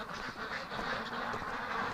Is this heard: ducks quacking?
yes